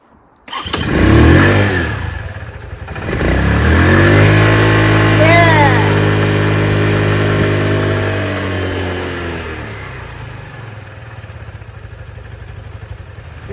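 A motorcycle engine running on a Marxon 12V 8Ah LiFePO4 lithium battery cranks briefly, then catches and revs up loudly before settling into a steady, close idle that slowly quiets.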